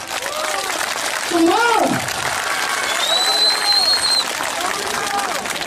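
An audience claps with both hands raised overhead, sustained loud applause with crowd noise, while a voice talks over it and whistles rise briefly.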